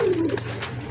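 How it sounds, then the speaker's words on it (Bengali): A pair of pigeons gives a short, soft cooing call, brief and close, against a faint background hum. "দেখুন পায়রা দুটো দেখুন খুব সুন্দর পায়রা"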